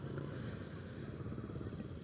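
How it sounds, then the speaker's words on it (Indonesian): A Kawasaki KLX 230 trail motorcycle engine runs with a loud, rough, rattling drone, steady and close throughout with no pauses. "Mesinnya yang berisik cukup lumayan mengganggu."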